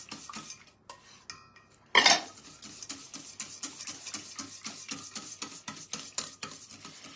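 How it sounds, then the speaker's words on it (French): Milk being whisked in a bowl for cake batter, a fast, steady run of metallic clinks and scrapes, preceded by a few scattered knocks and a brief loud clatter. "Je vais mélanger donc mon lait"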